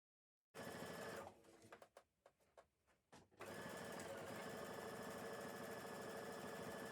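A Babylock sewing machine stitching a t-shirt quilt seam, a fast whirring run that breaks into short stop-start bursts and clicks before settling into another long, steady sewing stretch.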